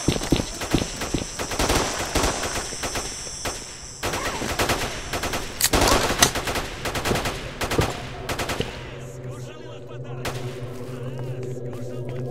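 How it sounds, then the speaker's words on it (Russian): Bursts of automatic gunfire and single shots in the S.T.A.L.K.E.R. Shadow of Chernobyl game, Old Good Stalker Remastered mod, loud and rapid, with clipped clatter and echoes before a quieter hum takes over near the end. "Да какие сейчас разговоры? Тут стреляют"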